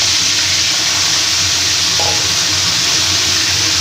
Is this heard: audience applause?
no